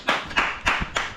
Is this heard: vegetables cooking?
no